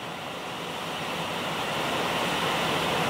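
Heavy rain pours steadily outside a house, a dense continuous hiss that swells slightly louder toward the end, with no voices.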